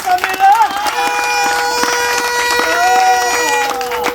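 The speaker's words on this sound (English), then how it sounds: "let us give him a round of applause" Crowd clapping and cheering at a political rally in Manchester, a continuous burst of applause with scattered shouts and whistles over steady tonal background sound.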